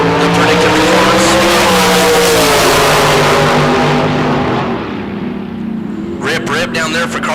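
Dragsters launch in a bracket drag race, a powerful, loud engine roar that sweeps downward as the cars pull away and then fades, followed by short sharp bursts near the end.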